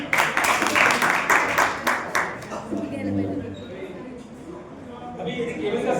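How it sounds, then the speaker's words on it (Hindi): An audience in a classroom session on electrical power cables claps in a short burst of sharp, rhythmic hand claps close by that fades after about two seconds, followed by talking. "तो ताली बजाओ उसके लिए।"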